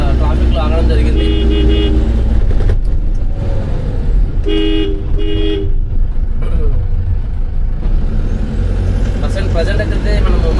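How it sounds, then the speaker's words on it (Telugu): Heavy traffic jam in Secunderabad during the Mahankali Bonalu festival, with a constant engine rumble and repeated car and truck horns honking in short bursts, loud and close, plus a hiss like an air brake. "ఈరోజు మన సికింద్రాబాద్లో బోనాలు ఉండడం వల్ల ఫుల్ ట్రాఫిక్ ఉంది"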